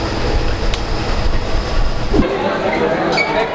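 A train in Punjab, India, bound for Amritsar, rumbles steadily along at close range, with a constant low roar and rattling carriage noise throughout.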